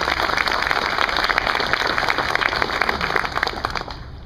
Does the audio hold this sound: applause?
yes